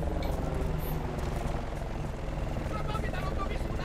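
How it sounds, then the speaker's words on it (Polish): Helicopters in the video game Battlefield: Bad Company 2 give a loud, steady rotor drone with dense, rumbling noise throughout. "Śmigłowce."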